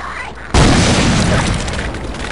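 A grenade explodes in Half-Life, a single loud, deep boom that breaks in suddenly and rolls on with a heavy rumbling tail, while quieter background game sound lingers underneath.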